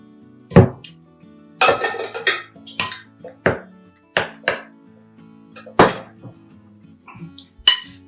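Swedish meatball mixture with milk-soaked bread and two eggs being mixed in a bowl, heard as a series of sharp, close clinks and knocks against the dish, irregularly spaced, with no talking.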